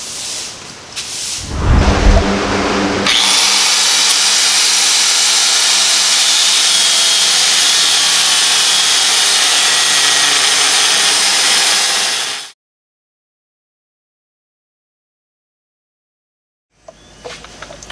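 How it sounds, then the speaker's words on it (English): A basic angle grinder with a cutoff wheel cutting into rivet heads on a truck frame: a brief start-up burst, then a loud, steady, harsh high-pitched grinding whine for about nine seconds before it cuts off. "take a cutoff wheel, this is just your basic grinder. Make a few cuts into the head"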